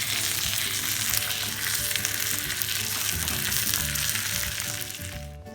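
Teriyaki-marinated pork chops sizzle and fry steadily in a hot pan as the marinade goes in, a loud, continuous crackling hiss that fades slightly at the very end.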